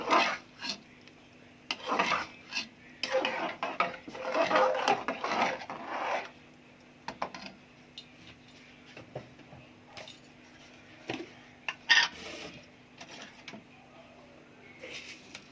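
Khichuri being stirred in a pressure cooker over a low gas flame, with close rasping scrapes of a spoon against the pot. The scrapes come in busy bursts at first, then turn into sparse, isolated scrapes and clicks.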